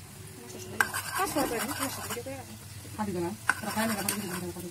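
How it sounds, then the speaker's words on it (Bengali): A spoon stirs caramel in a pan over a gas stove, with scattered scrapes and clinks against the pan and a soft sizzle, while a voice talks over it. "এখন এটাকে আমরা নেড়ে নেড়ে ক্যারামেল তৈরি করে নেব"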